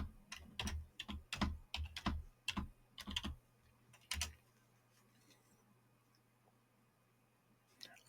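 Computer keyboard keys clack in a quick irregular run of taps while a password is entered, close and clear over a low steady hum, then stop, leaving near silence with one final click.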